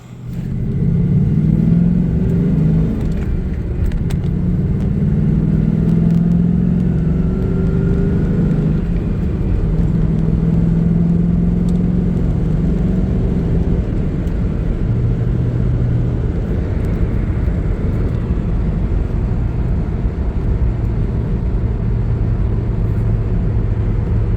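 New Edge Ford Mustang being driven after a valve cover gasket job with new coil packs and plugs, its engine note rising and falling through gear changes over steady road rumble from inside the car.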